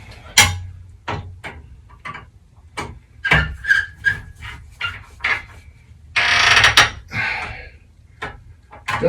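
Metal door hinge screws cranked down with a ratcheting tool during a frameless door install: a series of close, sharp ratchet clicks in short bursts, with one longer grinding stretch near the end and no talk.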